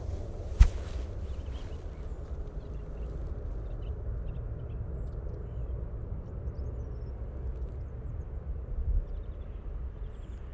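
A Ryanair airliner coming in to land at Manchester Airport, heard from a distance as a low, steady engine rumble, fairly faint and unchanging, with a single sharp tap near the start.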